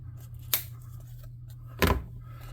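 Scissors snip through craft material, trimming it flush against a wooden frame in two sharp, separate cuts about a second apart, close up and otherwise quiet, with no talking.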